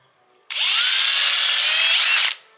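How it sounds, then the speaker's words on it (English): A power drill boring a hole for a pipe through a turtle pond feature, a single loud, close whine lasting nearly two seconds that starts abruptly and cuts off, heard alone. "drill a hole for the pipe in the middle"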